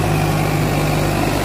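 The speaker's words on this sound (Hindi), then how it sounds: "चल गया छोरे का ट्रैक्टर।" A Sonalika tractor engine running, a loud, steady low mechanical hum with a constant drone and no breaks.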